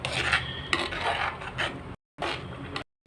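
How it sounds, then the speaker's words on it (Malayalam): Fish curry being stirred slowly in a pot, a continuous scraping and rubbing of a spoon against the pot with brief pauses of silence near the end. "ഒന്ന് ഇളക്കി കൊടുക്കാൻ പതുക്കെ"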